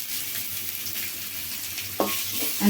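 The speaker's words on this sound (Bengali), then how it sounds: "ভেজে নেওয়ার পরে আমি কতগুলো পেঁয়াজ ছেড়ে দিলাম" Onions sizzle in hot oil in a pan, cooked until reddish for a green bean bhorta; a steady, close frying hiss runs throughout, with a brief stir or clatter near the end and no talking.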